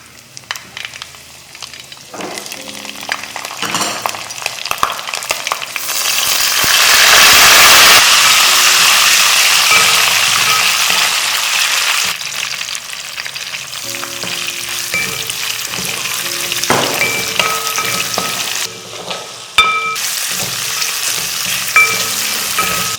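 Mustard seeds, dals, green and dried red chillies and curry leaves fry and crackle in hot oil, a loud sustained sizzle with a sharp surge midway and scattered pops, no talking.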